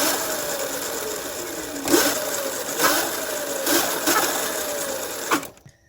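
Tuttio Soleil 01 pit bike with a small engine buzzing at a steady mid-pitched drone, rising in several brief throttle blips before cutting off abruptly at the end.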